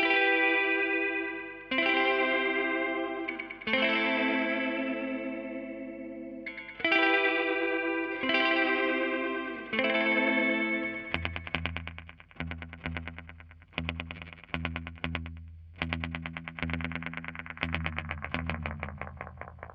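An electric guitar plays rockabilly phrases through slapback delay set to several repeats, each note echoing in quick succession. Sustained chords give way to fast picked notes, loud and alone.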